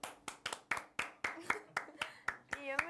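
A single person claps their hands at close range, about a dozen sharp, fairly regular claps over a few seconds, with voices talking and a brief musical tone underneath.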